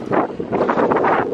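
Strong wind gusting across a long lake in Finland during salmon trolling from a boat, a rough continuous roar buffeting the microphone in uneven surges, with no talking.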